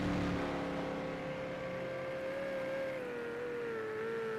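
Ferrari GT3 race car in Project Cars 2 at Bathurst Mount Panorama, its engine holding a steady, sustained whine with slowly shifting pitch, fairly loud and continuous with no talk over it.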